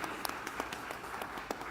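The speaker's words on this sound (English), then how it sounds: "A round of applause for that amazing statement." A conference audience gives light, scattered applause: soft, irregular claps that sound somewhat distant and faint, with no one speaking over them.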